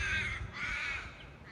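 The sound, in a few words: birds calling outdoors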